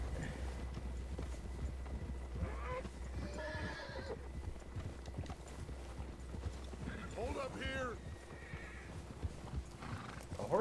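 Horses in Red Dead Redemption 2 whinny twice in clear bursts over a low, steady in-game background rumble, with soft hoof clip-clops scattered between the calls.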